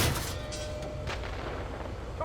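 A Leopard 1A5 tank main gun fires in Steel Beasts Pro, one heavy boom at the start trailing into a rumbling roar, with a second sharp blast near the one-second mark.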